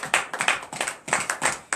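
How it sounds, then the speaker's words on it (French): During a morning prayer service, a congregation claps in rhythmic acclamation, with quick bursts of hand claps falling into a steady repeating pattern, loud and close, over about two seconds. "Donnez l'acclamation à Jésus."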